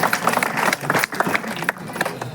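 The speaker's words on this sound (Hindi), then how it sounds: "तालियां बजाइए आप लोग बड़े कवि के लिए" An audience at a Holi gathering held in a Kayastha dharamshala in Lakhimpur claps for a poet, a dense, busy patter of many hands at close range.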